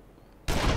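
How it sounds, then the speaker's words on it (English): A gunshot in the video game Final Fantasy XIV hits suddenly after a quiet moment, a loud, sharp blast followed by a sustained burst of noise. "Is that a gunshot?"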